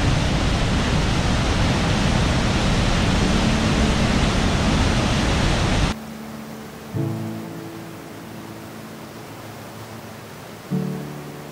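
Dillon Falls, a waterfall near Bend, Oregon, roars as a loud, dense rush of water that cuts off abruptly partway through, leaving quieter ambience with a couple of brief tonal thumps.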